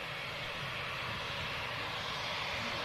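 A TAP Air Portugal Embraer jet arriving at the airport from Lisbon, heard as a steady, broad engine roar that holds at an even level throughout with no talk.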